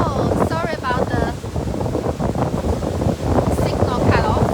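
Strong wind buffets an outdoor microphone, producing a loud, continuous low rumble and gusting roar, with a voice briefly heard through it near the start.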